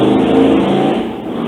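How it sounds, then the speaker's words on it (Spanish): A motorcycle passes along a road near a garden, its engine a loud, steady drone that fades slightly toward the end, heard alone with no talk. "Era la moto para dejarla pasar"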